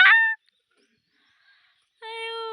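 Local chickens give two loud, close, tonal squawking calls, one short cry at the start and a longer one after a silent pause.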